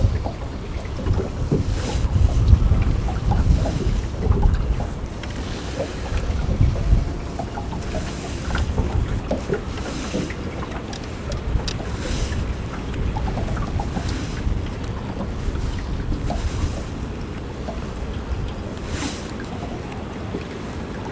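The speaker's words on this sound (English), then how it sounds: "The wind's wanting to push me downstream." Wind buffets a fishing boat on the water during a passing weather front, a steady low rumbling gust noise with irregular surges, close and continuous, with no talk.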